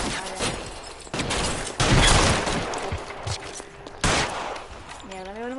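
Gunfire in an L.A. Noire shootout, bursts of rapid shots and louder volleys hitting in uneven clusters, with a voice speaking in between and a short whine near the end.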